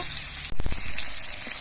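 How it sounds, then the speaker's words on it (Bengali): Fish fry in plenty of oil in a wok, a steady sizzle interrupted by a sudden burst of spattering crackle as pieces are moved, then settling back to a softer fry. "মাছগুলোর দু পিঠে আমার ভেজে নেওয়া হয়ে গেছে এবার আমি নামিয়ে নিচ্ছি বাকি মাছগুলো ভেজে নেব"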